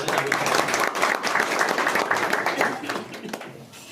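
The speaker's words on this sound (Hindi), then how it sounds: "जोरदार तालियां हो जाए" Audience applause at a carrom club tournament prize distribution, a steady wash of many hands clapping that holds strong for about three seconds before thinning out, with some voices mixed in.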